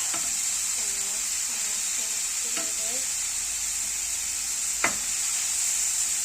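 Spices are stirred into a mushroom meze in a hot pan, with a steady sizzling hiss under a few distinct scraping strokes and one sharp clack near the end.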